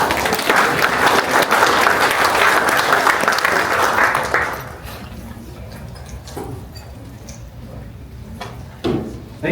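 Audience applause at a West Covina town hall meeting, greeting the acting fire chief: steady, dense clapping fills the room for about four and a half seconds, then cuts off into a quieter hall with faint scattered noises.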